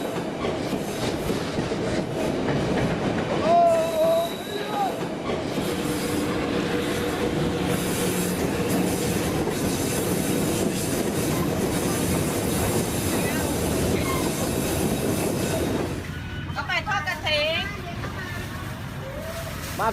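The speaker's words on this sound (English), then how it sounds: "And the train is riding right there." A train rolls slowly through a busy market laid along the railroad, its rumbling wheels and clatter running steadily under crowd noise and nearby voices, easing off near the end as a person talks over thinner background.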